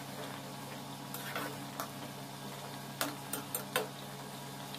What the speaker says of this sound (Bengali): এখন জলটা ফুটে উঠেছে, এটার মধ্যে আমি ফ্রাই করা মাছগুলো দিয়ে দেব।